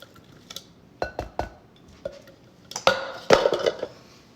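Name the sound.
Sugar Rush peach peppers added to a bowl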